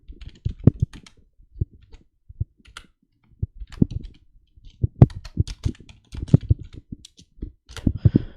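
Someone types Python code on a computer keyboard, producing irregular bursts of soft, close key clicks with brief pauses between the flurries.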